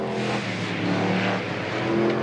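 A Formula 1 stock car engine fires up and revs with a harsh, loud roar that rises and swells, heard fairly close with no talk over it.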